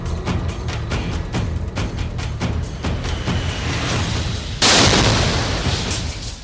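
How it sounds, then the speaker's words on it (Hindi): A string of sharp cracks and bangs, then a sudden loud blast from a flag hung on barbed wire, leaving a lingering, hissing roar. "कटीली तारों पर टंगे झंडे से हुआ ये धमाका सुर्खियां बटोर रहा है।"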